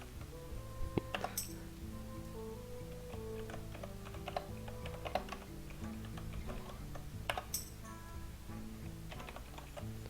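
Typing on an unfamiliar computer keyboard, close clicks in uneven bursts and single taps over a steady background hum of game music, with no one speaking.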